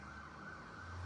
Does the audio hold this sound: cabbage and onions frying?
no